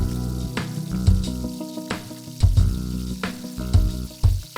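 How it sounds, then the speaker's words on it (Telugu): Spices with curry leaves, ginger-garlic paste and chopped onion fry in butter for a vegetable makhanwala, giving a steady close sizzle broken by several louder bursts of stirring and clatter, with no voices. "వీటిని 1 నిమిషం వెన్నతో వేయించండి మరియు తరిగిన ఉల్లిపాయ ముక్కలు వేయండి."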